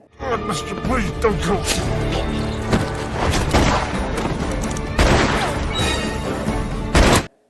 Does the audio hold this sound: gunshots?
yes